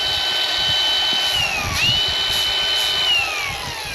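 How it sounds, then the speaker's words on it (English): A grinder fitted with sandpaper, a continuous high-pitched motor whine that dips and rises in pitch as the disc is pressed against the work, steady and close. "Sandpaper on a grinder."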